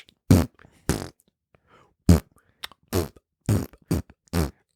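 Seven short, loud bursts of flatulent sound spaced irregularly across a few seconds, each a sharp buzzy blast separated by near silence.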